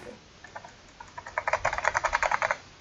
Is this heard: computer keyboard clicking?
yes